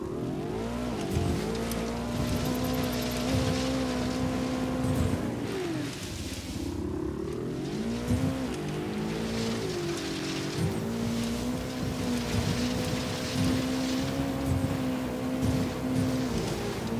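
A motorcycle in the open-world game Ghost Recon Wildlands drones steadily for the whole stretch, its engine pitch rising and falling with gear changes and a brief dip midway, loud and close with no talk over it.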